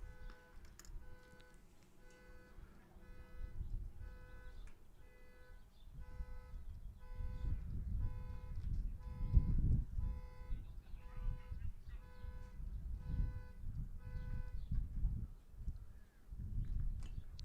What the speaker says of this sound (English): A little bit of car alarm action going off there.